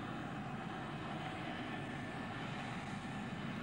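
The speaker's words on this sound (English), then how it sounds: "The Pratt & Whitney engines were fired up and tested" Pratt & Whitney engines on the Boeing Dash 80 airliner prototype run up in a steady, even roar, held at a constant level throughout without pauses or speech.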